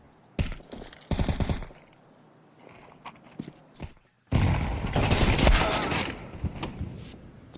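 Gunfire from a Counter-Strike 2 match between paiN and HOTU at PGL Astana 2025, heard as short bursts of rifle shots early on, then a dense, loud sustained barrage of firing and impacts in the second half.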